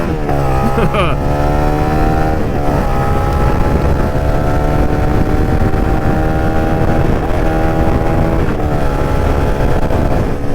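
A CFMOTO 300SS motorcycle accelerates hard in a sustained, loud engine roar with rising pitch sweeps, a stumble near one second from a missed gear shift, then further upshifts around two and a half and eight and a half seconds, with wind noise throughout.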